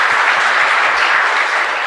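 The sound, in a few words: congregation applause for Nicole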